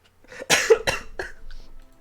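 A single sharp cough bursts out near the mic, followed by a couple of smaller coughing or throat-clearing sounds, with no talking.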